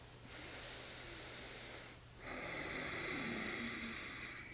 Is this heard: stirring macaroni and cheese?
no